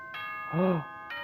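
A school announcement chime from the Danganronpa video game: a single two-tone ding-dong doorbell-like chime, clear and moderately loud, sitting between sustained tonal music before and after.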